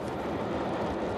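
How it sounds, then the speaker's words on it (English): Soyuz rocket engines at launch produce a dense, steady, broadband roar that fills the whole clip without pause, loud and continuous with no voices. "We have ignition of the Soyuz. Excellent thrust. And liftoff."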